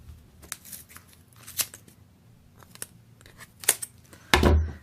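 Scissors cutting through paper for a ghost-shaped craft, a series of short crisp snips at uneven intervals, close and fairly quiet, ending in a louder rustle and handling noise.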